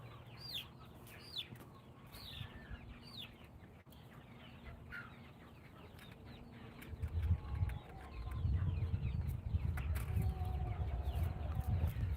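Chickens on a farm cluck and call in scattered bursts, some rising squawks early on, over steady low rumble that swells louder in the second half.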